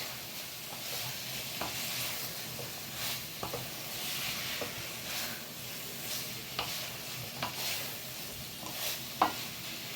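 Vegetables for a vegetarian jackfruit (echor) dalna stirred and frying in a pan, a steady soft sizzle with scattered scraping spoon clicks at an uneven rhythm, close and moderately loud, with no voices.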